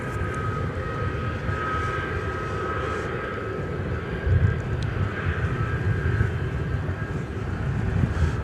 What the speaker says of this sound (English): those A350 1000s are growing on me. Beautiful plane.